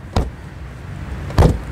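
A 2023 Hyundai Sonata 2.5 electric tailgate makes two soft, muted thuds about a second apart as it closes gently, heard close against a quiet background with no voices.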